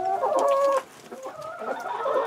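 Chickens in a barn cluck and squawk close by in December, a few birds calling over one another in short, uneven bursts.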